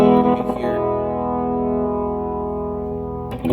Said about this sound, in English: there's the delay. You can get a chorus effect.